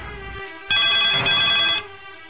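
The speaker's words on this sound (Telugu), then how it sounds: "అయ్యా అలా ఫోన్ మోగుతూనే ఉందండి." A telephone rings during a tense movie action scene, a single loud, bright electronic ring burst lasting about a second, standing out clearly above a low background.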